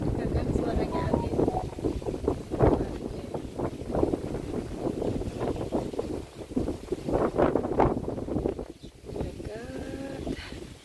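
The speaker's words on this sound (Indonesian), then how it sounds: "Ini dari tadi malam ya, anginnya deres." Strong wind, blowing since the night before, buffets the microphone in gusty, uneven rumbles while people talk over it.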